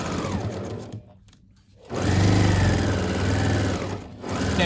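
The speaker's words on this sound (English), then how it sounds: "I'm sewing without the needle down" A home sewing machine runs fast and steady while stitching a tea towel pillow. The motor whirs loudly, pauses briefly, then resumes at full speed near the microphone.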